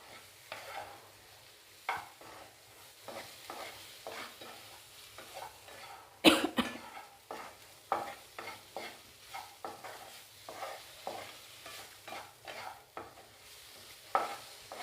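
Potato pieces are stirred with chili masala in a pan, giving soft scraping strokes and gentle sizzling at an irregular rhythm, with one sharper clatter midway, heard close and fairly quiet.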